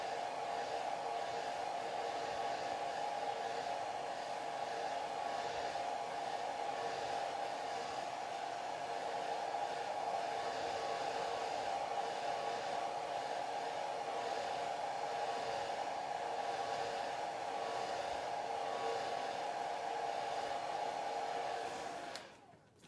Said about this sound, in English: Let me put the blow dryer on.